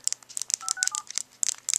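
Button clicks on a BlackBerry Curve phone keyboard, a rapid series of short, crisp taps and clicks close up, with no talking.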